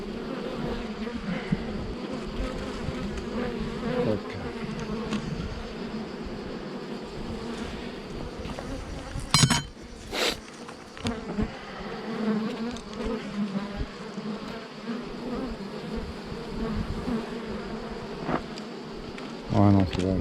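Honeybees buzzing at a beehive, a dense, steady hum of many insects close by that continues throughout, with a few brief knocks and handling noises and occasional voices in the background.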